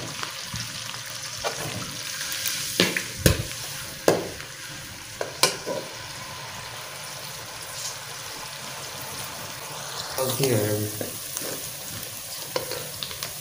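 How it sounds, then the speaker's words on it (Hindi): Onions fry until brown for a mutton curry, a continuous sizzle broken by sharp spoon knocks and scrapes against the pan and a brief splashy burst near the end, with no voices. "फिर प्याज को कर देते हैं ब्राउन।"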